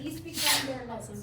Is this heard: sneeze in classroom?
yes